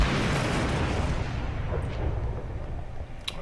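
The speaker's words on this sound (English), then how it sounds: "I do have to put a spatial charge right there. Okay, and now, fire in the hole, everybody runs back" A spatial charge detonates in the video game Star Trek Online, a loud, sustained rumbling explosion that fills the whole moment with dense noise and fades slightly at the end.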